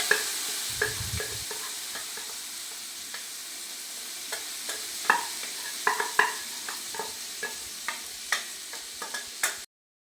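Beef coated in masala fries in sunflower oil while being stirred, giving a soft steady sizzle broken by repeated close scraping and clicking strokes of a spoon against the pan.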